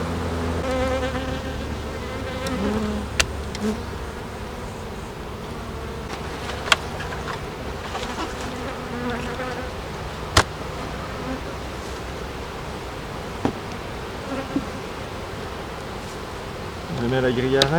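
Honey bees buzz steadily around a hive colony that has just received a new queen, a dense continuous drone with a few sharp knocks and clicks over it.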